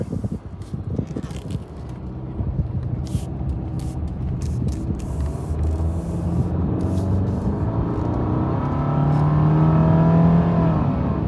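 A 2016 Subaru Outback with a 2.5L engine runs steadily after fresh spark plugs and a cleaned throttle body, its close, continuous hum swelling slightly and rising in pitch toward the end, with no talking.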